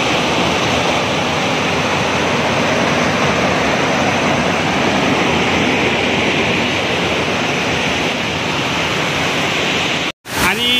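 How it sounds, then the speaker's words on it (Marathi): Small waterfall pouring into a pool at a village swimming spot in Konkan, a loud, continuous close-up rush of water that ends in a brief cut near the end. "हा इथे एक धबधबा आहे छोटा."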